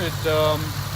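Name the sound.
2010 BMW 550i GT engine running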